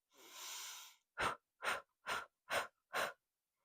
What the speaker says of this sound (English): if you want to add breath, inhale. Big exhales out.